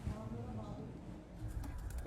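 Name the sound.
Van pigeon cooing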